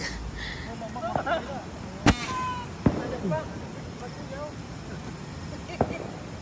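A few sharp bangs and crackling bursts from a fireworks fountain go off at intervals at New Year, with people talking and chattering throughout.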